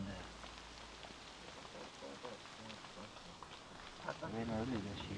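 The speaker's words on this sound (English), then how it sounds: "the tent was just getting hammered with rain" Heavy rain hammers on a tent in Alaska, a soft, steady patter heard from inside, with a voice speaking briefly near the end.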